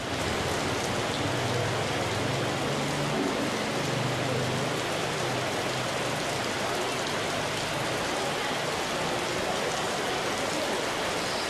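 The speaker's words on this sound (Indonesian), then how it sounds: "Katanya di Tioman agak hujan." Steady rain falls on Tioman island, a dense, even hiss of drops on surfaces that continues without pause, close and moderately loud, with no voices over it.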